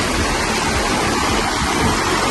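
Fast-flowing river at a narrow crossing point, a loud, continuous broadband rush of water heard up close, steady and unbroken with no voices.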